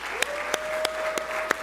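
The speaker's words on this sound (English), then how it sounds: "Let's have a round of applause." An audience at a national youth entrepreneurship challenge event applauds the presenters. A wash of crowd clapping carries a few sharper nearby claps standing out at a regular pace, with a faint steady tone beneath.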